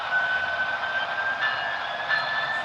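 A model train runs on a valley layout with a steady, continuous mechanical hum and whine holding an even pitch, close and moderately loud with no talking.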